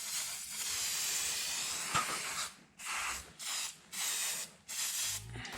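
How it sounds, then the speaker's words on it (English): Aerosol can of protective spray aimed at the bolts holding a snowblower's scraper bar, one long hissing burst followed by several shorter spurts separated by brief pauses, close and fairly loud. "spray down all of these bolts that hold on my scraper bar"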